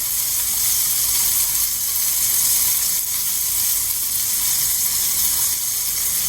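Eggplant slices frying on a hot tawa, a loud, steady sizzle and hiss close up with no break.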